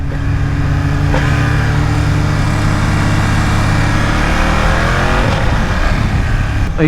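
A 2020 BMW F900R motorcycle engine drones steadily at close range, its exhaust rumbling continuously as the bike rides along with slight shifts in pitch.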